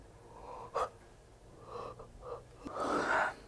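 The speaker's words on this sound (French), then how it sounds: "c'est un bâillement de stress" A breathy, drawn-out yawn swells near the end after a few shorter breaths, close and fairly quiet, with no talking.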